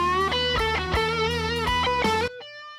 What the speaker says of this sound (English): This is the sound of that chorus.